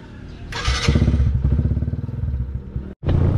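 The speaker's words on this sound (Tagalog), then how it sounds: "painitin na lang natin yung makina niya nang makalabas na tayo" A motorcycle engine idles and revs as it warms up before heading out, a close, loud rumble with quick rhythmic pulsing and a clattering start, then a brief cut and the engine again.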